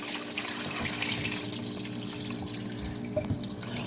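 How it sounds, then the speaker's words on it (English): Water running over assorted meat being rinsed in a bowl or sink for Nigerian pepper soup, a steady close splashing and trickling that continues throughout with no talking. "This is the last rinse."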